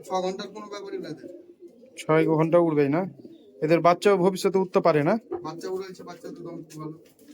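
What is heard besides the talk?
Giribaz pigeons cooing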